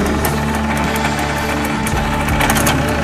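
Izh Jupiter 3 motorcycle engine, cold after standing unused for four and a half years and smoking with the choke on, runs loud and steady close by with a rough, uneven rumble and slight rev swells.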